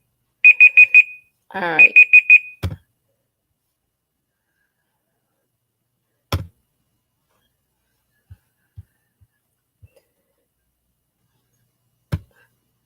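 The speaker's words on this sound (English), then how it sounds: "forgot I even set the timer." Kitchen timer alarm beeping in two quick bursts of rapid high electronic pulses, then stopping; a few sparse knocks and a short spoken remark follow in otherwise quiet surroundings.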